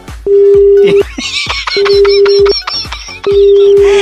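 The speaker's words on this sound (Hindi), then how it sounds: "इन्होंने तो फोन काट दिया है" A telephone disconnect tone of steady repeated beeps, heard during a radio phone-prank call after the other party hangs up. The beeps are loud and close, alternating with bursts of background noise.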